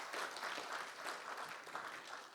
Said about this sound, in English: Please join me again to give him a big round of applause.